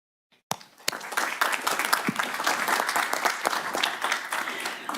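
Sustained applause from a crowd at a board of trustees meeting, starting abruptly with a few sharp claps and holding steady as a dense, loud patter throughout.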